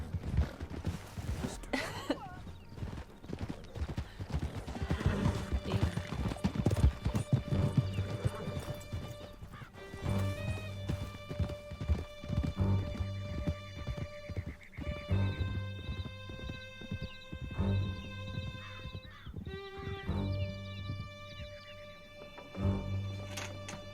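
Horses galloping in the video game Red Dead Redemption 2: rhythmic hoof clip-clop with neighs and whinnies, set under a swelling musical score and occasional voices during a canyon chase.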